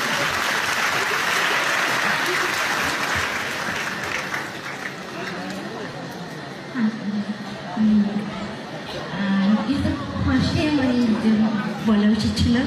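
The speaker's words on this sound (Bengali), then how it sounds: "আর ওদের হয়ে আমরা আগামীর তরফ থেকে সকলের জন্য একটা জোরে হাততালি চাইছি" Loud audience applause at a stage show fills the hall for several seconds, then thins as voices and crowd chatter rise over the fading clapping.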